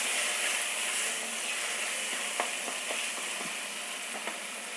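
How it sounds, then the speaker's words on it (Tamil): Onions and tomato sauté with turmeric in a pan, giving a steady close sizzle with a few faint scraping stirs scattered through it and no talking. "இப்போ நல்லா குழைவாக வதங்கட்டும்"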